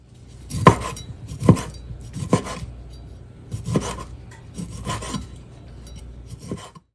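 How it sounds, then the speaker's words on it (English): A knife slicing andouille sausages gives about six rasping cuts with sharp board taps, spaced unevenly and heard up close, with no talk. "we are going to slice up our andouille sausages"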